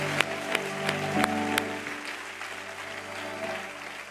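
An audience at a church sermon applauds steadily, a dense patter of many hands with a few sharp claps standing out early, moderately loud and fading slightly toward the end.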